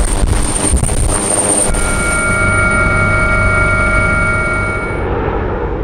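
A helicopter flies over Indianapolis for Super Bowl security surveillance, a loud steady rotor and engine drone with a faint whine that stays close throughout and thins slightly toward the end.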